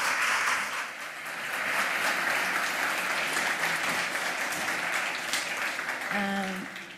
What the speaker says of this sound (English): A big applause for Helena and for Cristiano.